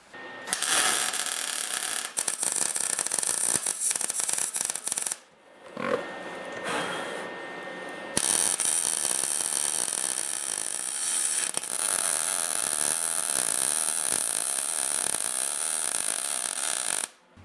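MIG welding with 025 wire on a snowblower repair gives a loud, continuous crackling buzz close by, broken by a short pause partway through before the arc resumes steadily.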